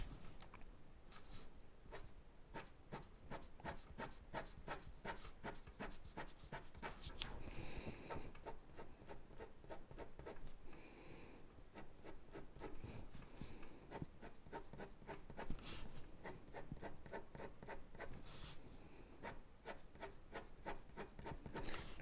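Pen cross-hatching on paper and running over tape: continuous rapid scratchy strokes, close and quiet, repeating in dense back-and-forth bursts with no talk.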